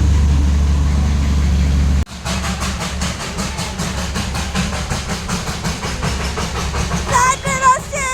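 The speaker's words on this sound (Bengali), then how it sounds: "আর এটা হলো ডিজেল ইঞ্জিন।" A diesel-engine train runs past at close range, first a heavy low rumble, then a long run of regular clickety-clack wheel beats, with a few faint voices near the end.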